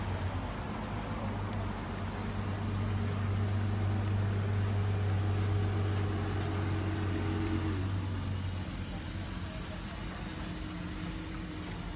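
A Dodge car's engine idles with a steady low hum that drops and fades partway through, while quiet voices talk in the background.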